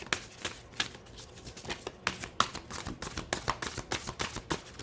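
A tarot deck being shuffled by hand, a quick run of crisp papery riffles and slaps repeating irregularly, close and fairly loud with no talking.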